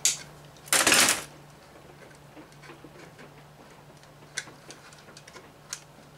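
Wire cutters snip the tail off a wire tie on a primer alarm build for a Loadmaster press: one sharp, loud burst of cutting noise early, then a few faint scattered ticks and clicks in a quiet room.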